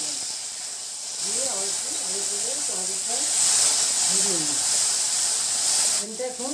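Tomato pieces dropped into hot oil in a pan after frying pumpkin set off a steady, fairly loud sizzling hiss under a voice talking.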